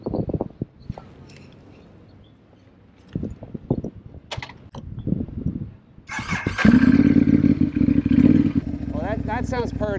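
A Ducati Hypermotard motorcycle is started with a key jingle and a short crank, then its engine catches and idles loudly and steadily; voices talk before and after.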